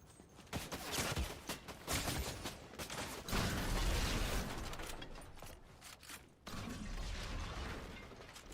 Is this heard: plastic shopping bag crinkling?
no